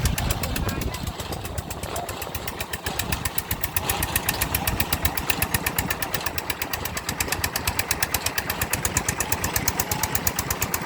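A steady, rapidly pulsing engine of a water well drilling rig chugs loudly and continuously, a rough rhythmic drone with rattling mechanical knocks.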